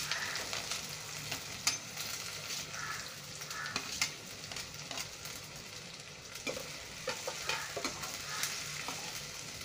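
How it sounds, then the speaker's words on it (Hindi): Finely chopped onions fry in hot oil with reddened cumin seeds in a pan, a steady crackling sizzle broken by repeated scraping clicks of a spoon stirring, close and moderately loud with no talking. "इसको ट्रांसपेरेंट होने तक भून लेंगे।"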